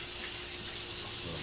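Hands being washed under a running kitchen tap, a steady close hiss and spray of water flowing continuously without a break.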